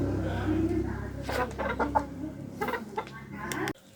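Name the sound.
chickens clucking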